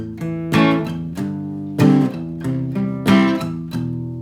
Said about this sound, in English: And the whole riff played slowly.